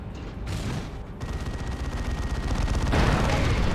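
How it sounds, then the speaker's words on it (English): A Cyclone Missile Launcher barrage in Dawn of War 2, a continuous rumbling wall of explosions and rapid firing that swells louder toward the end, with battle noise throughout. "There's a Cyclone Missile Launcher Barrage."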